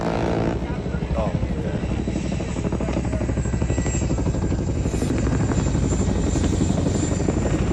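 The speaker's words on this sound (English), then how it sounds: "A lot of people don't realize those Chinooks are faster than the Apaches you're flying with." A Chinook helicopter passes overhead, its rotor chop a loud, steady, continuous thrum that fills the whole stretch without letting up.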